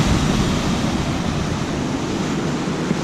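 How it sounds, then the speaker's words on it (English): Ocean waves break continuously against a rocky shore at a beach used for crabbing, forming a steady, loud broadband wash of surf with no pauses or voices. "the waves are constantly breaking up in there all the time"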